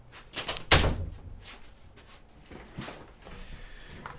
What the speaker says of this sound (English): I gotta shut my door just a second